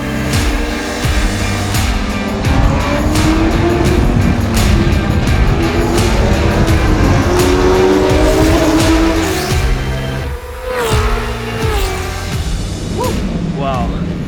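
A race car driven hard on a track in Abu Dhabi, its loud engine roaring steadily close by with shifting pitch as it speeds up and down through corners, briefly dipping before surging again.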